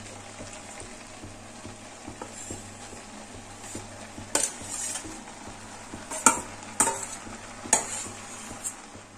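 Fried potatoes are stirred into bottle gourd greens cooked with poppy seed in a pan. A soft sizzle runs underneath while a utensil scrapes and clanks sharply against the pan several times.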